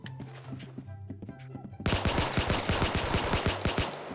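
Gunfire in the Roblox game Arsenal: a few scattered shots, then a dense, rapid automatic burst of many rounds, close and loud, with no talking.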